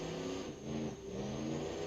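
A V8 diesel engine in the BeamNG.Drive driving game revs steadily, a dense, continuous mechanical drone with a slight dip in pitch partway through, close and loud with no talk.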